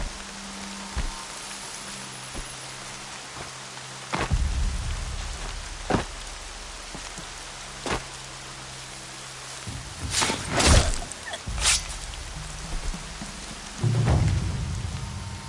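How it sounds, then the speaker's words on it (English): Steady rain patters on surfaces throughout Horizon Zero Dawn, punctuated by sharp thunder cracks and a few heavier rumbling bursts, with no voices. "Rain's not so bad."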